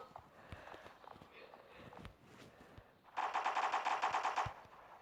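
Rapid automatic gunfire from the video game Block Strike rattles out in a loud sustained burst after a stretch of softer clicks and footstep-like game noise.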